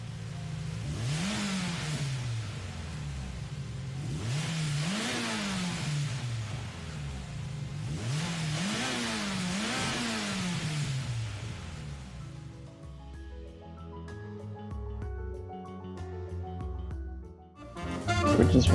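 In Gran Turismo 7, a Mitsubishi FTO GP Version R fitted with the engine from the Lancer Evo Final rally car revs hard three times in rising, falling sweeps. It then settles into a lower, choppier running note before a final loud burst.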